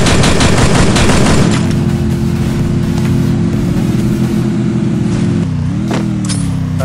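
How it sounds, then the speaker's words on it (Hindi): Rapid bursts of video game gunfire, loud and continuous, with a heavy mechanical engine-like hum running underneath. "मारो इन्हें गोलियां मारो"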